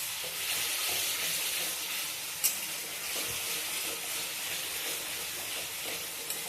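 A spiced masala paste is stir-fried with yogurt and a splash of water in a pan, giving a steady close sizzle and hiss with soft scraping stirs throughout and one sharp clink partway.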